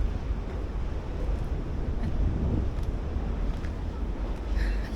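Strong coastal wind at the Kapurpurawan Rock Formation in Ilocos Norte buffets the microphone as a loud, steady low roar, with a faint hint of surf underneath.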